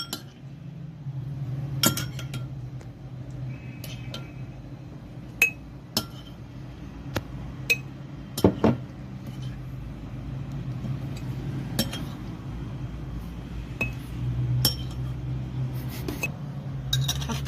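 Lemons are packed into a sterilized glass jar with carrot, celery and garlic for quick pickling, with scattered sharp glassy clinks and knocks over a low steady background hum.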